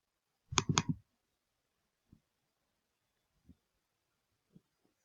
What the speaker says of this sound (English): Just I click the assignment.